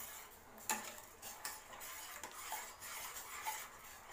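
A spoon stirring honey into a pot of turmeric kadha, with quiet scraping and a few light metallic clinks against the vessel, faint and close with no voices.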